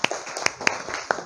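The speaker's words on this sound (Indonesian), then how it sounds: "Tepuk tangannya." Students clapping in a classroom, a brief scattering of light, uneven claps from a small group, close by.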